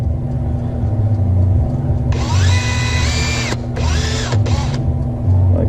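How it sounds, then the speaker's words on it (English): A power drill spinning a ring mandrel for coin ring making whines in several bursts, rising to speed and cutting off, over a constant low engine-like rumble nearby. "I'm going to take my drill with my mandrel on there."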